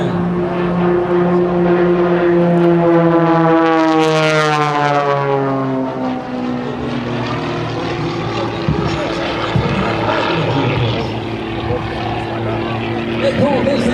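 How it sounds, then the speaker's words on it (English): Propeller aerobatic planes of the Firebirds team fly in tight formation at the 2010 Boston-Portsmouth Airshow, engines droning loudly with a rising then falling pitch as they pass close by, a commentator talking over the sound. "Hold his aircraft just as tight as he can off of right Jack's right wing."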